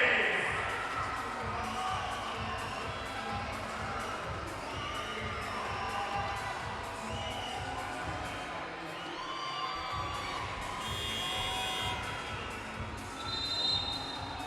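Fans in an indoor arena at a Singapore Slingers basketball game cheer and shout nonstop, a broad echoing roar with children's shrieks and whoops, steady for the whole stretch with a surge near the end.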